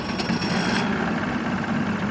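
The outboard engine of a Ranger RT188 boat, fitted with a new power head, runs in a steady, close, rumbling drone that holds evenly throughout.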